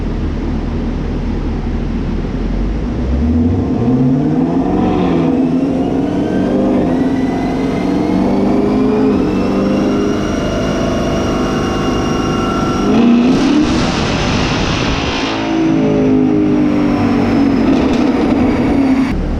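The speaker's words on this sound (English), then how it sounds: "he about to just do some practice pulls just to get it dialed in, and he's gonna do some power pulls after that" A Chevrolet Camaro on a dyno making practice power pulls, its engine revving and climbing in pitch repeatedly, loud and close, with roller and drivetrain noise underneath and no speech.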